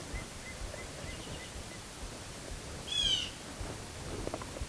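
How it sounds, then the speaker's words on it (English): A bird in a backyard gives one short chirping call partway through, faint against a steady hiss of outdoor background noise. "I apologize if the birds are going to be loud, but they're wonderful and they like to talk to me"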